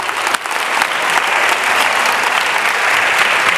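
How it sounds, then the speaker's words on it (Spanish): A large conference audience applauds loudly and continuously, a dense, even wash of clapping from start to finish. "pido que la recibáis con un fuerte aplauso al escenario"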